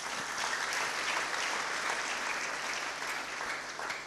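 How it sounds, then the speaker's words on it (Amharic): A church congregation claps steadily throughout, a dense continuous wash of applause with possible ululation mixed in, no speech over it. "ለእግዚአብሔር ከፍ ያለ እልልታና ጭብጨባ ይሁን።"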